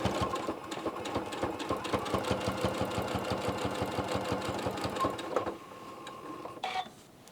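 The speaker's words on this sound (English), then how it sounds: "and I can start sewing now." A sewing machine stitches through a quilt with a fast, even run of needle strokes for several seconds. It then stops and is followed by quieter mechanical clicks and a short rattle.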